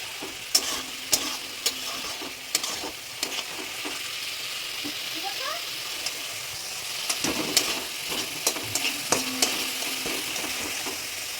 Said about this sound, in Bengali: তো তোমরা এটা বারবার নাড়িয়েই যাবে, মশলাটা নাড়লে নিচে পড়ে যাবে।